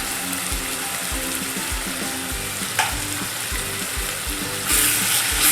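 Onion and tomato frying together for chicken biryani gives a continuous sizzle and the rhythmic scrape of a spoon stirring them through the pan, close and even throughout, with a brief louder hiss near the end.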